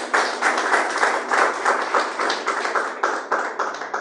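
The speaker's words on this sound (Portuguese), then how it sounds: "Palmas para Ele," A church congregation claps together during a worship service, with dense clapping that pulses in a rough steady rhythm and keeps going for about four seconds without talk.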